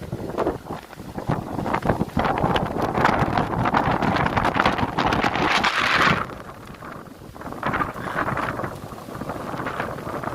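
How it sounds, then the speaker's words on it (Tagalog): Strong typhoon wind gusts roar steadily against the microphone in Parañaque, easing briefly before surging again. "Sobrang lakas na ng hangin."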